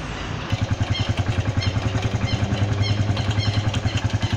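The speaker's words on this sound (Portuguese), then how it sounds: "Vou ligar ela aí que o motor tá frio, só pra tá mostrando o barulho que tá fazendo." A 2018 Honda Pop motorcycle engine, started cold and making an odd noise, runs with a fast, even, close-up pulsing idle that comes with a regular ticking clatter.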